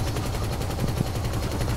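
A minigun firing in a video game, a dense, continuous rapid-fire rattle of gunshots at a steady rhythm, fairly loud and without talk.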